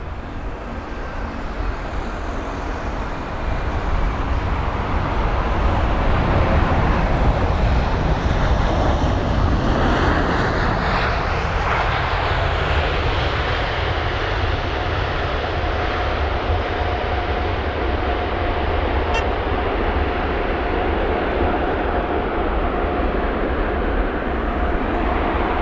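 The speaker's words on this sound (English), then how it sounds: "And that was Qatar and their A380." A Qatar Airways Airbus A380 arriving on runway 27 right at London Heathrow, a steady, loud broadband jet roar lasting the whole stretch, with no talk over it.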